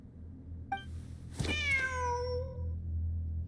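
Cat meowing in the Genshin Impact video game, a short faint mew followed by a longer, louder drawn-out meow over a steady low game background hum.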